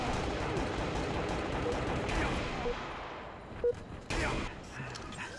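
Gunfire in the video game Halo: Reach, a dense wash of rapid shots through most of the stretch, followed by a few sharper isolated reports near the end, loud and close.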